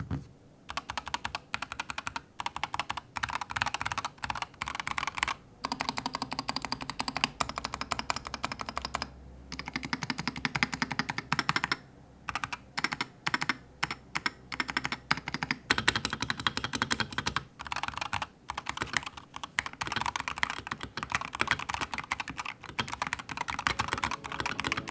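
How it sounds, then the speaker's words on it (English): Rapid, steady typing on an NZXT Function keyboard fitted with foam and tape mods, close up with dense, even keystrokes and no speech. "It doesn't sound thonky, but it definitely sounds better than your average gaming keyboard"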